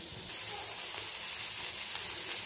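Ridge gourd peel fries in a pan with a steady, close sizzle and crackle that holds evenly throughout, with no one speaking.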